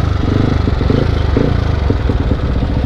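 A motorcycle engine with a machined camshaft runs loud and close, a rough mechanical clatter over a steady low rumble that continues throughout, with no voices.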